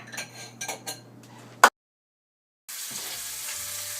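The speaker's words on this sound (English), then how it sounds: "I'm going to flip these things, and what we want to do is we want to basically brown them for 8 to 10 minutes on each side" Lamb shanks browning in a hot pan, with a few close clinks and scrapes of a utensil, then a sudden cut to silence before a steady loud sizzle of frying returns.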